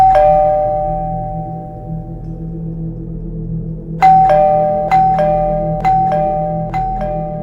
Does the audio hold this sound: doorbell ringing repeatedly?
yes